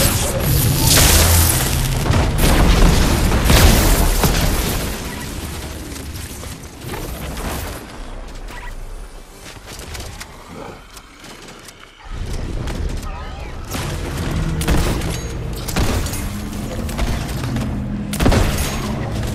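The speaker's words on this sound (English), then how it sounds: "My auto turret's hitting him" Auto turret firing in a Fortnite horde rush match, rapid bursts and booms in a dense battle mix with loud impacts, a brief lull midway, then heavy firing resumes; a player talks over it.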